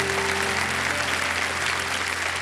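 Applause from a TV game show studio audience for a village girls' hockey team, a continuous wash of clapping over a low steady musical hum.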